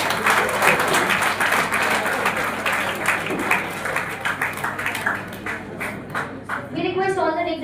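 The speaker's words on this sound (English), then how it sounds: "So let's give them a big round of applause" Conference audience giving a big round of applause, sustained even clapping from a crowd for several seconds that thins toward the end as a voice begins speaking over the last claps.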